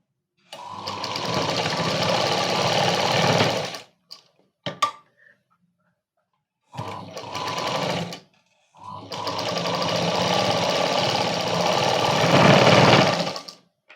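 A sewing machine stitching Punjabi dress fabric runs in three bursts of fast, steady mechanical whirring, close and loud, separated by brief silences and small handling clicks.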